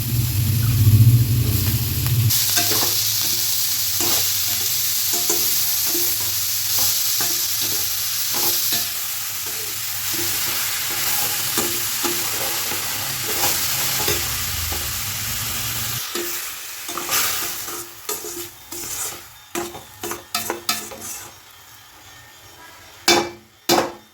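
Cabbage and carrot stir-fried in a pan over cooked onions: a steady loud sizzle with repeated clattering scrapes and knocks of a spatula stirring the vegetables, no talking.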